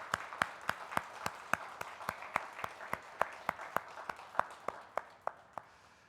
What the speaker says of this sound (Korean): 격려의 박수 하도록 하겠습니다